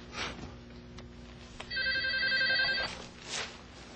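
An indoor telephone bell rings in one clear, sustained burst at moderate volume, set amid a quiet domestic scene with faint background noise before and after.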